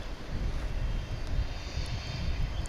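A five-year-old Boeing 787 Dreamliner touches down after a 5,112-mile long-haul flight from the southern hemisphere, its broad engine roar and low rumble steady and fairly loud across the moment, with no voices.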